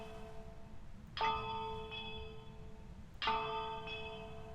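A bell on the Point Hope lighthouse map in the game Phasmophobia rings twice, each a clear resonant strike that hangs and fades slowly, with a quiet gap between the two tolls.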